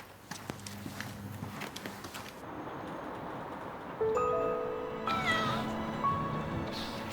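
Soft shuffling and taps give way to a cat meowing a few times, its clear, drawn-out calls close by over quiet background noise.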